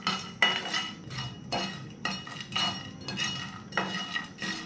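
Dry Kolkata biryani masala spices being stirred in a hot pan, a spoon scraping in a steady rhythm of close, repeated strokes roughly every half second, with no talking.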